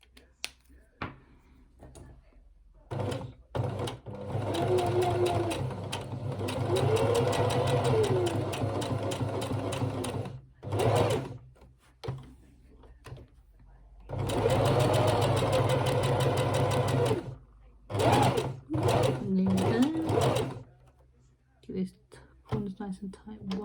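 A sewing machine stitches a polka dot dress in long steady runs broken by pauses, close and fairly loud, with a person speaking quietly between and over the bursts.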